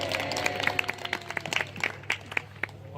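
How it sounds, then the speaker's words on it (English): A small group applauds knights at a staged event, scattered, fairly quiet claps with distinct individual hand strikes spread across the few seconds. "Let's hear a round of applause for our knights."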